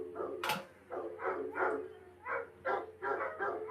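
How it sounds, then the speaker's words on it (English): Several dogs bark repeatedly in a loose, uneven rhythm, somewhat distant and moderately faint, with one sharper bark standing out early on. "Y'all hear the dogs?"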